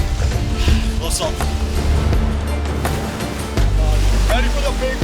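Big ocean waves break and wash in, a loud rushing surf with swells of churning water, while people talk and call out over it.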